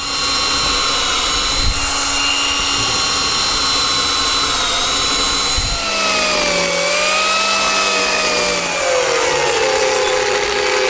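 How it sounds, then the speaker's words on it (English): A power drill bores a run of depth holes into a wooden tray blank, a steady high whine with shifting pitch as the bit sinks, loud and continuous with no talking. "I've got a drill where I've set the depth of the drill so that there's about 1 centimetre from the bottom, and I'll drill a series of holes"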